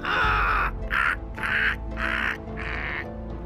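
An animated story's cartoon bird gives five loud, close crow-like caws in steady succession, with a soft low hum underneath.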